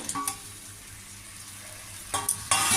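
Tengra fish dropped into hot masala and oil in a pan: a quiet simmering bed, then sharp bursts of sizzling and frying that swell loudly at the end.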